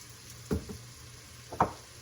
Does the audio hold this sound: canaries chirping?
no